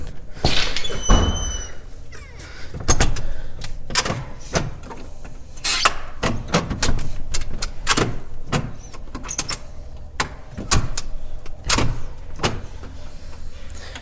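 An exterior back door of a large Las Vegas house is worked open with repeated rattles, clunks and sharp thunks of the handle and frame, close and uneven over several seconds with no talking.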